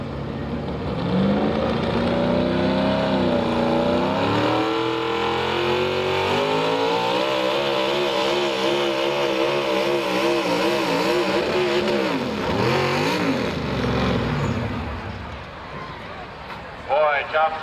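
A front-wheel-drive Chevy pulling truck at a truck and tractor pull revs loud and sustained, its engine pitch climbing and wavering over about fourteen seconds before easing off, with crowd and announcer voices mixed in.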